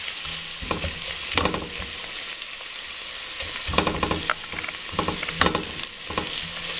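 Chopped rosemary and thyme sizzle and fry steadily in a hot pan, with occasional scraping and stirring clatter over the continuous crackle.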